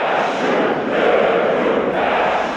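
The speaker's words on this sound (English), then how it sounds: "I had to explain to the crowd what we were doing and get them to chant the black speech" A large crowd chants an orc marching chant in Black Speech from The Lord of the Rings, a loud, dense mass of voices swelling and pulsing in unison throughout.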